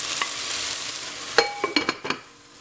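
Vegetables are tipped into a pot of frying fennel seeds, a hissing sizzle broken by a cluster of sharp clatters and stirring knocks, loud and close with no talking.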